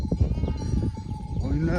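A flock of sheep bleats beneath nearby talking, with rustling and shuffling throughout and a clear drawn-out bleat near the end.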